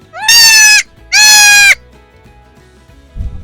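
A goat gives two loud, close bleats in quick succession, each lasting about half a second, followed by quiet rustling and a faint low thump at the end.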